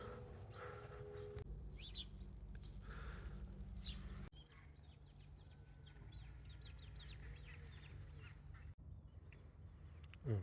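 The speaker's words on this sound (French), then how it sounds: "La plage est envahie d'oiseaux." Ducks and other birds crowd a beach, quacking and clucking at a distance over a steady bed of low wind and surf noise, the calls scattered and overlapping without talk.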